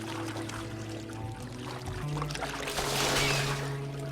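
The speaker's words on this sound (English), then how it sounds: "Another water rise is coming up." Rising water in a video game, a broad rushing flow that builds in strength toward the end over a low steady hum, with no talk.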